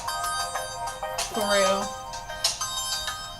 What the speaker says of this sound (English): Calling people's phone in the middle of a video.